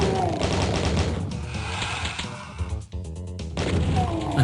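Shotgun blasts from enemy shooters in a Scythe Map 14 first-person shooter level ring out among dense, loud game effects, with bursts of gunfire and crashing impacts packed closely together.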